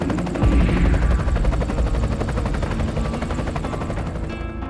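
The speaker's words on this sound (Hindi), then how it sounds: "और तभी तेज आवाज के साथ हेलीकॉप्टर वहां आ" A helicopter arrives loudly, its rotor chopping in a fast, steady rhythm that swells in the first second and stays close and dominant throughout.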